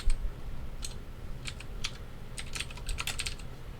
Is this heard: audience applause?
no